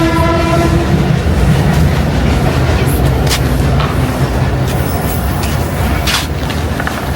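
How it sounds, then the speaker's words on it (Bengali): A train rumbles steadily past at close range, a loud continuous roar with a horn tone near the start and faint clatter throughout, and no voices. "ট্রেন যাচ্ছে"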